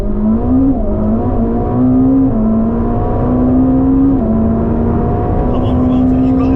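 Engine drone with repeated stepped pitch rises, like gear changes under hard acceleration, loud and constant as a Lamborghini Revuelto and Ferrari SF90 drag race, with people talking over it.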